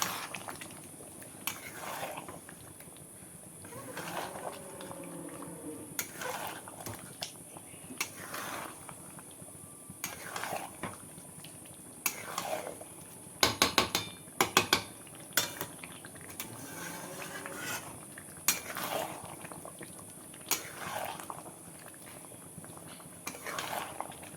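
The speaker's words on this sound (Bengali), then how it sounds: "এবার আলু দিয়ে অনেকটা টাইম ভালো করে কষতে হবে।" Chicken with fried potatoes being stirred in a pan, repeated close metal-on-pan scrapes and clinks in irregular bursts over a soft sizzle, fairly quiet.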